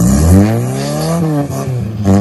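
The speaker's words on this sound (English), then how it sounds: "This truck right here ain't got no problem towing stuff up here." A pickup truck towing a load uphill, its engine revving loud and close with a rising, rough drone that dips and surges again, with no talking.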